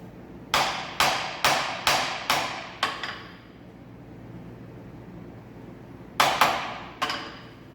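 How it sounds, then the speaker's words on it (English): Sharp mallet taps on a metal workpiece clamped in a milling machine vise, a rapid run of six evenly spaced blows, a pause, then three more, close and distinct over a low machine hum. "So it can be placed in the vise tightened, and the workpiece tapped down with a mallet"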